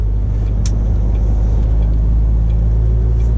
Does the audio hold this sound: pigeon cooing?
no